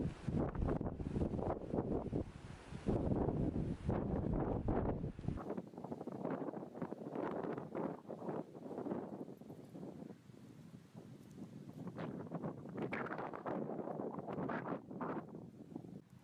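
Hurricane Irma's wind roaring outside a window, a constant gusting rush that stays loud and turbulent throughout, with some faint rustling in the mix.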